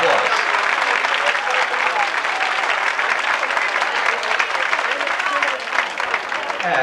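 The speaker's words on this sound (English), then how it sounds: "Let's give her a big round of applause." A crowd at a 1983 dance show applauds loudly and continuously, a dense wash of many hands clapping that holds steady for several seconds.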